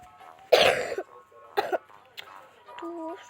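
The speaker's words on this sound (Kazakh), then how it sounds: "Жөтеле берді қой." A few harsh coughs in quick bursts, close to the microphone, followed by a short throat-clearing sound.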